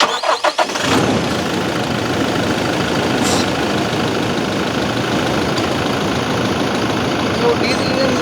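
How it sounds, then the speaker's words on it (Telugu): A 2026 Toyota Hilux diesel pickup engine cranks briefly and catches, then settles into a steady, close, loud idle that runs on alone for several seconds. "మెయిన్గా మీకు ఒకసారి ఇంజన్ ఆఫ్ చేసి ఆన్ చేసి చూపిస్తా"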